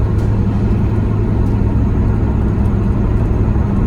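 A tuned car cruising on the highway, with a steady low engine and road rumble heard from inside, constant and loud, with no talk.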